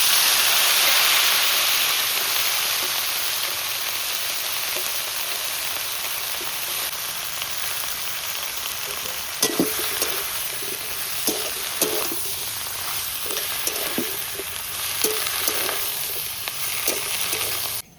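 Bottle gourd greens and potato fry with cumin seeds in mustard oil, starting with a strong, rain-like sizzle that eases off. Scraping stir strokes then break in at irregular intervals over the steady hiss.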